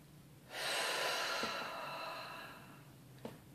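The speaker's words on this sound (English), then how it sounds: "Take a deep breath in." A single long, deep inhaled breath, near and fairly loud, drawn in steadily for about two seconds and then trailing off quietly, with no talking.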